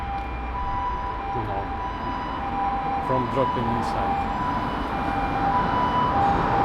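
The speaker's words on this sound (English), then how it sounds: "So this is an ambulance sound." An ambulance siren wails on a night street in Fukuoka, Japan, its tone steady and moderately distant beneath someone talking and the hum of the street.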